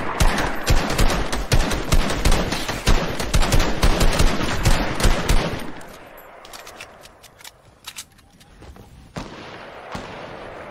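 Rapid automatic gunfire in Fortnite, loud, dense bursts for the first half, then thinning to scattered, quieter shots over a low background.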